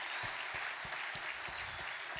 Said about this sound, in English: please give yourself a round of applause for being here